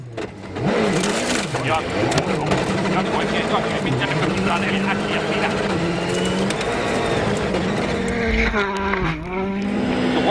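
A WRC rally car at speed on a stage of Rally Poland 2014, its engine revving hard and shifting through gears, loud and close, with a commentator talking over it throughout.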